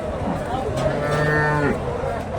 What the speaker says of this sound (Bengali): সুন্দর একটা গাভী